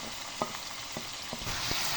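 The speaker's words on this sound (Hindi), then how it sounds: "अब इसे अच्छे तरीके से मिक्स करूँगी और ख़ूब इसकी भुनाई करूँगी।" Chicken frying in oil with spices such as dried coriander powder, a steady close sizzle with a few sharp spoon clinks against the pan as it is stirred.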